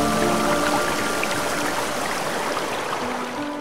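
Water rushing over the Sula waterfalls on the river Sula, a dense continuous roar that holds steady and fades slightly toward the end, with no voices.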